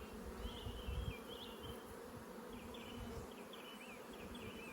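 Honey bees buzz steadily close by during a transfer from a nuc box to a hive, a dense hum with individual bees droning past now and then, and no voices.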